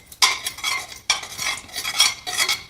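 Melted sugar stirred with desi ghee in a pan makes three distinct, close scraping strokes of a spoon across the metal, each a sharp rasp that fades before the next.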